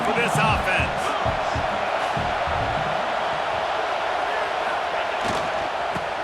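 Stadium crowd noise in the EA Sports College Football 26 video game, a constant loud roar of a large crowd holding steady throughout with faint shouts rising briefly near the start.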